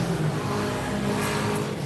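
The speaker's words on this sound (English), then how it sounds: "there's so much traffic going on right now" Steady street traffic in Sosua, Dominican Republic, with cars rumbling past in a continuous, fairly loud wash of engine noise and no clear talk.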